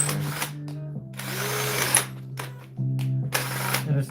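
A power drill whirs in steady bursts with short pauses between them while a resin bowl is being turned, the motor's hum stopping and restarting close by.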